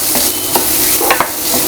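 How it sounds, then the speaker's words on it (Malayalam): Mashed potato samosa filling is stirred in a hot pan, with a few quick scraping strokes of a spoon over a soft, steady sizzle, close and alone. "ഇനി ഇത് നന്നായിട്ടൊന്ന് മിക്സ് ചെയ്തെടുക്കാം."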